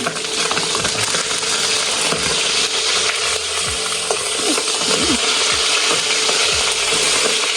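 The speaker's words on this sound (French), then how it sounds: "Et je vais mélanger." Tô porridge being stirred in a pot during cooking, a continuous loud bubbling hiss with repeated scraping and knocking strokes of a spoon against the pot, no talking.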